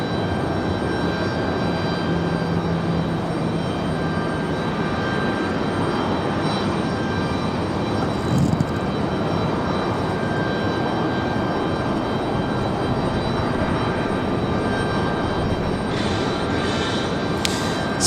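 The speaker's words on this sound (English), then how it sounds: "here comes that Cessna Citation. Taking a minute to come around here." A Cessna Citation jet taxis at Raleigh Durham International airport, its engines giving a loud, steady whine and rumble that holds for the full stretch.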